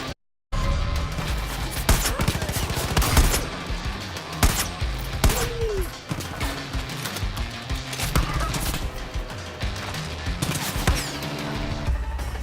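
Gunfire aimed at the player in the video game Far Cry 5, with scattered loud shots and impacts over a busy game mix that sits behind it throughout.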